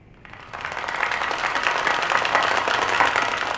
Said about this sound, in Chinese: 现在就让我们掌声请出他们闪亮登场